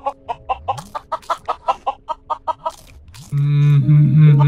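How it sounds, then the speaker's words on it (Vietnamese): Fat white chickens in a video game cluck in a quick, regular run of about a dozen calls, then give way to a louder, sustained game tone and effects at the end. "Ôi, những con gà trắng muốt béo ngon."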